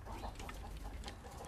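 Backyard hobby chickens cluck in a steady, fairly close chorus over a constant low background hum, with no talking.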